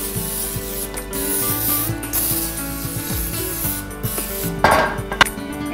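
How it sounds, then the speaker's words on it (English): Spray oil hissing onto a cookie sheet for holiday cookies, a short burst near the end over steady background music and kitchen clatter. "I'm gonna use any kind of spray oil. And I'm just gonna lightly coat my pan."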